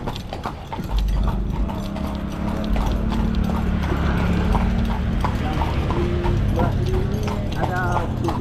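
Horse hooves clip-clop steadily on a street in Bukittinggi during the fasting month, a continuous rhythmic clatter with mechanical rattling, probably from a cart, over busy town noise and people talking.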